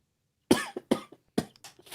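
Several sharp coughs in quick succession, close and loud, with short pauses between the bursts.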